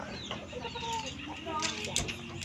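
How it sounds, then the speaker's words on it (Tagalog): Chickens cluck in short bursts close by, mixed with background chatter and outdoor ambience. "Ang manok."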